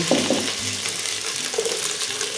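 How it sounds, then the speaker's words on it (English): Celery and onion sizzle in about a quarter cup of cooking oil in a pan while gluten-free stuffing is made, a steady close hiss with a few soft stirring knocks near the start. "I'm throwing these in a pan here that's just got a little bit of oil, about a quarter cup of cooking oil"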